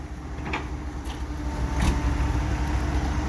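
A car or light vehicle at a roadside earth-hauling site pulls away, its low engine rumble swelling steadily and staying fairly close, with a few faint knocks and clatter over the drone and no talk.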